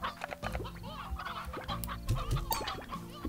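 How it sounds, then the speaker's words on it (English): Stony hens in the Slime Rancher video game cluck and squawk in a busy, overlapping flock, with repeated short calls close by over a steady game soundscape. "I'm going to grab some of these hens."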